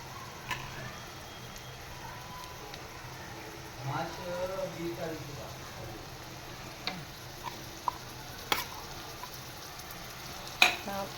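Finely chopped onion sautés in a pan for pav bhaji, a soft steady sizzle with occasional stirring clicks and scrapes.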